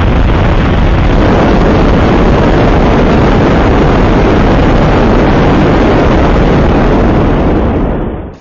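A rocket blasting off into outer space, a loud, steady, dense roar with a rushing, wind-like rumble that holds for several seconds before cutting off abruptly at the end.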